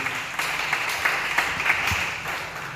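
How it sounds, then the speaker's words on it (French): Church congregation applauding and cheering for the Lord during a French-language sermon, a steady wash of clapping with scattered louder claps and cheers, moderately loud and continuous throughout with no speech over it. "Est-ce qu'on peut acclamer le Seigneur?"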